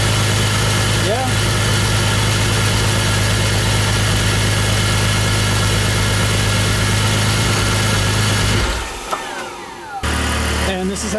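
A BMW E46 engine idles steadily after a lifter replacement, a loud even mechanical hum up close that cuts out near the end before a brief return.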